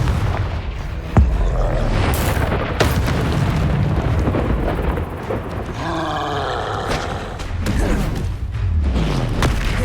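Booming explosive blasts from the Confringo spell in the video game Hogwarts Legacy, played on Xbox Series S, loud and repeated with roaring fire-like bursts over a dense continuous background.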